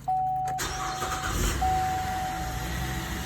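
Engine of a 2012 Chevy Traverse cranking and catching after a timing chain job, then settling into a steady idle, heard close with a thin whine running through it.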